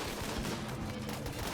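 Rapid, continuous turret gunfire in a Rimworld-style colony game, a dense distant rattle of automatic shots blending into a steady crackling roar.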